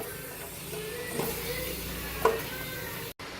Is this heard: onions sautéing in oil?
yes